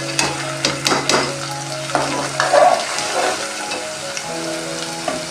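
Spices for moong dal fry in a hot pan, a continuous sizzle broken by several sharp crackling bursts and stirring scrapes, close and moderately loud with no talking.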